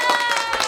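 Several quick hand claps sound in a rapid burst over a faint steady tone, close and short.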